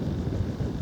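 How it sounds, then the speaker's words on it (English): Wind buffeting a microphone outdoors on a countryside walk along the Wye, a steady low rumbling gust that fills the short moment without any talk. "the wind's picked up as well."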